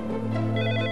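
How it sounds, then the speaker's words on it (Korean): A telephone rings with a steady electronic tone, loud and close, in one short unbroken burst. "어느 저녁 늦은 시간에 걸려온 긴급 전화."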